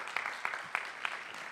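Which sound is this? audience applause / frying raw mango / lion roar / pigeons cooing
audience applause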